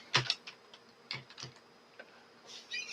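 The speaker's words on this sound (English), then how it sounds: "I'll type your name." Scattered key presses on a computer keyboard, a handful of sharp clicks at an uneven pace as a name is typed, fairly close and quiet in a still room.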